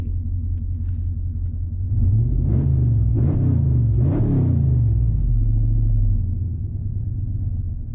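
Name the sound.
600hp Dodge Scat Pack engine revving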